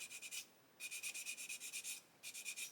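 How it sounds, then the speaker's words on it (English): A moulding seam line on a primed plastic model pylon is sanded away in quick back-and-forth strokes, three bursts of rhythmic scratchy rasping, close and faint, with short pauses between. "and sand that away"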